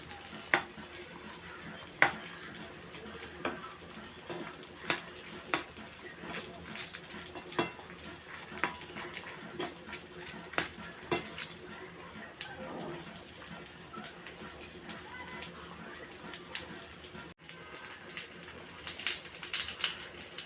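Dry red chilies and garlic cloves frying in a pan for tomato bhorta, giving a steady, soft sizzle with small crackles throughout and a brighter burst of spitting near the end, no talk.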